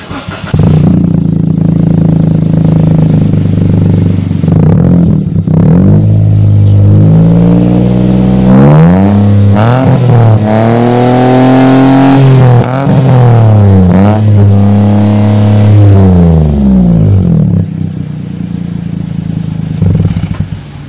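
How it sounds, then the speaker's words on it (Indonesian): A 2016 Toyota Agya G TRD with a modified rear exhaust (rear muffler removed, catalytic converter kept) revs loudly up and down close by, its engine climbing and falling several times in a deep, throaty drone. "Knalpotnya hanya bagian belakang saja. Ini adalah suaranya yang model-model begini, suaranya bagus benar."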